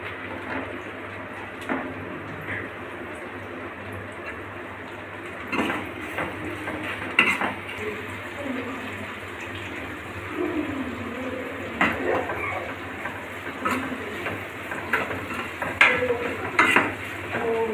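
Onions fry in a kadai on a lit stove for egg curry. A steady low sizzle runs throughout, broken by scattered clinks and scrapes of a spatula against the pan, with no one talking.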